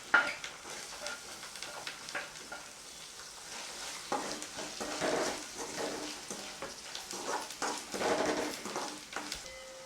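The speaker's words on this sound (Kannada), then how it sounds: "ಸ್ವಲ್ಪ ಜೀರಿಗೆ, ರುಬ್ಕೊಂಡಿರುವಂಥ ಹಸಿಮೆಣಸು, ಹಸಿ ವಾಸನೆವರೆಗೂ ಚೆನ್ನಾಗಿ ಹುರ್ಕೊಳ್ಳಿ." Cumin, ground green chili and chopped onion fry in a hot pan for aloo paratha filling, a steady close sizzle with irregular stirring scrapes and clinks throughout.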